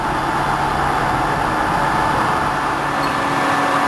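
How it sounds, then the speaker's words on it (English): A 24-by-120-inch SHARP geared-head engine lathe runs with its headstock spindle turning at 214 RPM, a steady, even mechanical hum and whir held close and constant throughout. "The headstock is quiet, runs well. This is a spindle speed of 214 RPM."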